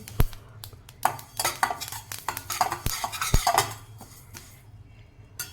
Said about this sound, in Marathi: तीळ भाजून घेणार आहोत